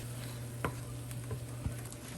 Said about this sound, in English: I add a 1/4 cup of milk, and I will stir that up until it thickens